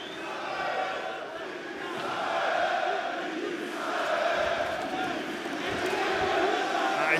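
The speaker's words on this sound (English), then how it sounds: "You can hear the French crowd getting behind their local fighter here." A French crowd at a PFL Paris fight event in 2023 keeps up a loud, continuous roar that swells and surges in waves, with a commentator talking over it throughout.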